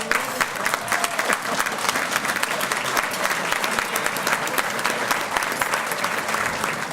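Dense, sustained applause from a large audience at a county legislative conference, loud and even throughout with no break in the clapping.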